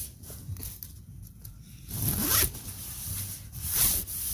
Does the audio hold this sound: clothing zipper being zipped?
yes